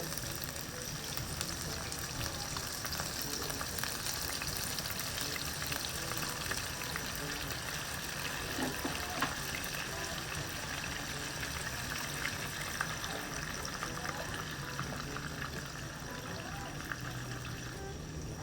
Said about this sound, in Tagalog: lalagyan ko po na itong sabaw na itong pineapple chunks